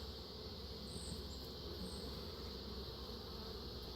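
Honeybees at an opened backyard hive during an inspection make a steady, dense buzzing hum that fills the whole stretch at an even level, with faint occasional higher whines passing close by.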